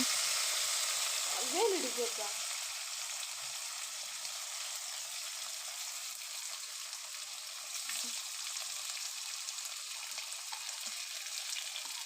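Curry leaves, tomato, onion and green chilli frying in oil for chicken sukka, a faint steady hiss with a brief spatter near the start, fairly quiet and distant.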